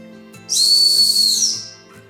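A homemade turned wooden dowel whistle with the smallest sanded gap is blown in one steady, fairly soft, high tone lasting just over a second, then fades out.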